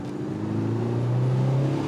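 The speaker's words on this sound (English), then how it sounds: "we'll demonstrate now how seamlessly the 335 brake horsepower is delivered from the diesel engine" A 2017 Audi SQ5 3.0 TDI quattro diesel with 335 bhp accelerates steadily, its deep exhaust note rising in pitch as the engine climbs through the revs, loud and close.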